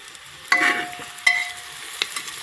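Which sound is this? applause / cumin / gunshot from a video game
cumin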